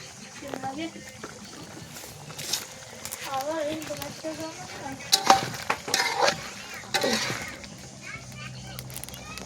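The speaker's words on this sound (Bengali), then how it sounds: "হালিম হচ্ছে, মাংস হচ্ছে কষিয়ে" Haleem and meat braising in a pan, stirred with a spoon, with sizzling, scraping and bursts of frying noise, close by, as people talk in the background.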